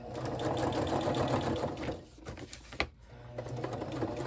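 Sewing machine stitching the base of a scrappy fabric flip flop journal, running in a steady whirring buzz that pauses briefly, gives a single click, then resumes its continuous hum close by.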